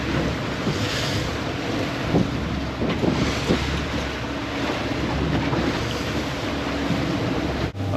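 A fishing boat out on open water after bluefin tuna runs both engines in a continuous, loud drone. Wind buffets the microphone and waves wash against the hull throughout.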